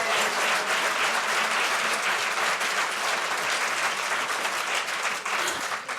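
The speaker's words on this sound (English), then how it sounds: "let's please give them another round of applause" A large crowd at an opening plenary session gives sustained, loud applause, a thick even roar of clapping that holds steady for six seconds with no speech over it.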